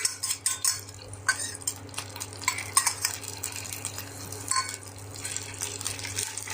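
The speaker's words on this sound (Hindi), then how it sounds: "इन मसालों को अच्छे से भून लेते हैं।" Mustard seeds, soaked fenugreek seeds, chopped onion and green chili fry in a pan, stirred with a spatula that scrapes and clinks against the metal over a low, steady sizzle.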